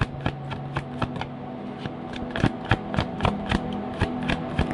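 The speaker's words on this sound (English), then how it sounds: "Let me draw a card about the universe advice for you." Tarot cards being shuffled and drawn, a rapid run of crisp riffling snaps and soft card slides, close and steady with no talking.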